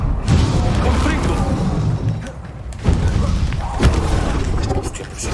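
Confringo spell blasts in Hogwarts Legacy, dense low booms and bursts under a continuous dull rumble, with sharper thumps near three and four seconds, mixed with game sound and speech.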